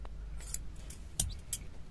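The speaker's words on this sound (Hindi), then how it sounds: "फिर यहाँ से आपको इसे कट कर लेना है, ये बड़ा ही आराम से कैंची से ऐसे सीजर से" Scissors snip through a chrome trim strip for a Tata Altroz, giving a few short, crisp cuts close by against a quiet room, with no talking.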